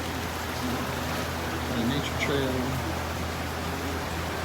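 Steady rain falls on Caladesi Island, a broad even hiss that holds through the whole stretch, with someone talking over it now and then.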